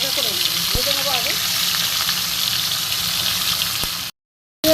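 Parshe fish frying in hot mustard oil, a steady loud broadband sizzle running continuously for about four seconds before cutting off abruptly, with brief faint voice fragments near the start.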